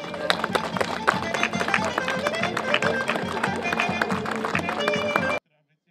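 An audience applauds a young judo athlete at a sports awards event, a lively, continuous burst of crowd clapping with voices mixed in, which cuts off abruptly near the end.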